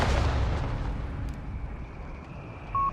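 Mortar fire in Company of Heroes 3, a deep boom at the start trailing into a long rumbling decay with faint distant battle noise and a brief tone near the end.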